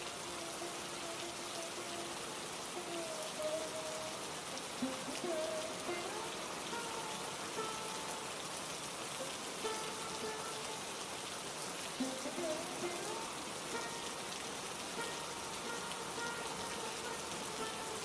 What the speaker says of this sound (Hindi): अरे हरिया भाई, बारिश के मौसम में ऐसे गांव की गलियों में साथ साथ घूमने का जो मजा है ना, वो शहर में कहाँ मिलता है।